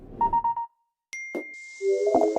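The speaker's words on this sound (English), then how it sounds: "We've also created a new suite of sounds that are familiar to the Mac, but remastered and more refined." A sequence of remastered Mac system alert sounds from macOS Big Sur plays in isolation: several short tinkling dings, a pause, then a bright ping with a sustained tone and a final chiming flourish.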